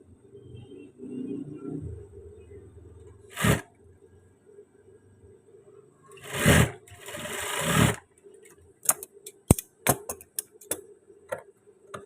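Sewing machine stitching along a trouser waistband, with three short bursts of running stitches spread across the stretch, then quick light ticks and clicks as the fabric is shifted, in a quiet room with no talk.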